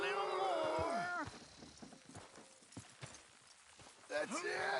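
Horses plod with scattered soft hoof clops in the Western game Red Dead Redemption 2, framed by whinny-like tonal calls at the start and end, with background game ambience.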